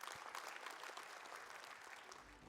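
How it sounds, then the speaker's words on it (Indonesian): An audience at a civic event on Jakarta's transformation claps together in a steady, dense wash of applause, fairly faint and distant, with no voices standing out. "Boleh tepuk tangan untuk kita semua."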